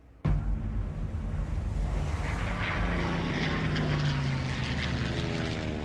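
World War II fighter planes at the 1942 Battle of Midway fly overhead near aircraft carriers, their propeller engines kicking in abruptly and then holding a loud, steady droning roar.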